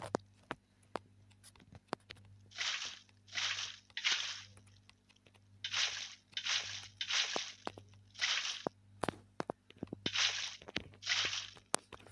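Water being poured in the Minecraft video game, heard as about ten short, hissing bursts in a regular rhythm over a steady low hum, with scattered clicks between them and no talking.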